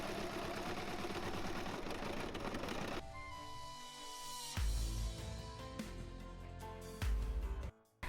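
A sewing machine runs close by while a pirate costume is being made, giving a fast mechanical whirring that stops and starts in short bursts with brief pauses between runs.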